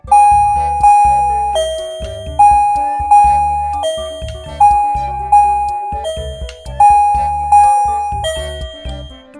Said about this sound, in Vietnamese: Chúng ta có thể chỉnh các bản nhạc chuông khác nhau bằng nút bên trên và bên dưới của loa chuông